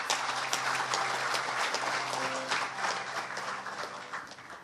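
Audience applause for the judges at the 2011 Kyung-Ahm Prize award ceremony, a moderate crowd clapping steadily in a hall, fading slightly toward the end.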